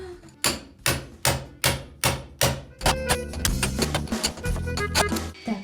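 A hammer drives a chisel to chip cement baseboards off a wall during a bathroom renovation, first about eight sharp, evenly spaced blows, then a quicker, denser run of close, loud knocks.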